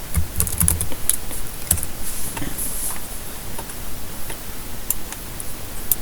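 A password is typed on a computer keyboard during a Q4OS Linux session, with a run of quick, close key clicks in irregular bursts, dense at first, then sparser taps with short pauses.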